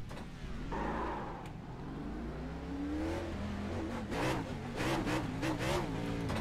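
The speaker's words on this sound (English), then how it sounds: "God, this thing just sounds so epic. It idles higher." Chevy Camaro ZL1 NASCAR engine in iRacing at Indianapolis Motor Speedway, a steady loud rumble with rising and falling revs and rapid throttle blips toward the end, heard alone.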